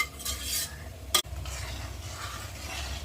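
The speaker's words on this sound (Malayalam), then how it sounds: "നന്നായി ഇളക്കി കൊടുക്കുക." A spoon stirs toor dal curry in a pan over medium heat, with a soft continuous sizzle, swishing scrapes and a single sharp clink of utensil on metal.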